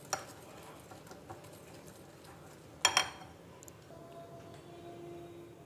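Red velvet cake frosting stirred in a bowl, giving soft scraping and light utensil clicks, with a brief louder clatter midway, all fairly quiet and without talk.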